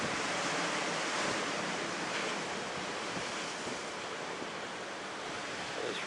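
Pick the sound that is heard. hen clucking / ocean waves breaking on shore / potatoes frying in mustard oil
ocean waves breaking on shore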